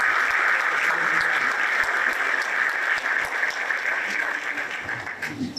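Sustained applause from a church congregation welcoming a priest, steady and loud throughout, fading slightly near the end.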